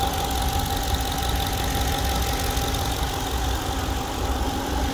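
A 2017 Ram 2500 Power Wagon pickup engine idles steadily up close, a constant low rumble with a faint rhythmic knock and no voices.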